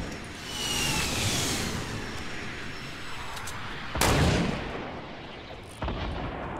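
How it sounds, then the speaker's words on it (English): Rockets launched and exploding during a Fortnite duo match: a steady roar of distant gunfire and blasts, then a sharp loud explosion around the middle and another burst near the end. "Gonna launch some rockets at it?"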